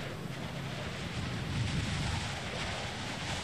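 A fairly strong wind blowing under a heavy, cloudy sky in the visual novel If My Heart Had Wings, a steady broadband rush that stays loud and even throughout without pauses.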